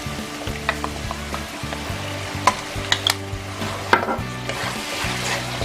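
Masala fries in a pan with tomato sauce and soy sauce for Indian-style macaroni, a continuous close sizzle punctuated by sharp spoon clinks and scraping stir strokes against the pan.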